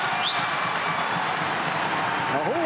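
A wrestling arena crowd roars steadily during a college dual meet between Oklahoma State and NC State, a loud sustained wash of cheering with a few whistles and a shout near the end.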